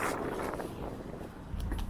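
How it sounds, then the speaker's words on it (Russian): Wind gusts buffet the microphone outdoors beside an inconspicuous shop, a loud rumbling roar that swells and eases over a couple of seconds with no speech. "Ветер."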